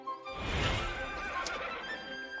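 A horse on an anime farm lets out one loud, drawn-out whinny that rises and then shakes down, with no voices.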